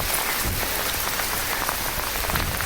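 Torrential rain pours down steadily and loudly, a dense close hiss of drops drumming on surfaces with no break throughout.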